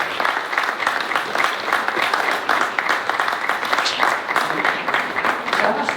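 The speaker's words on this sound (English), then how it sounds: "Everybody give them a round of applause." Wedding guests at a rustic barn reception give a loud, sustained round of applause, with dense, even clapping and voices mixed in throughout.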